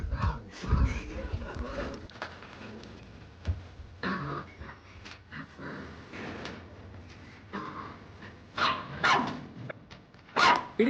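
A dog barks repeatedly in irregular bursts, fairly close, with bird cooing faintly in the background and no talking, on a tea estate.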